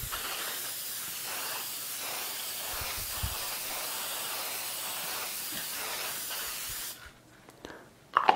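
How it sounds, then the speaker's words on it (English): A steady aerosol varnish spray hisses continuously for about seven seconds over a painting, fairly close, then cuts off into near quiet with a couple of small clicks at the end. "when you apply spray, just move evenly right to left"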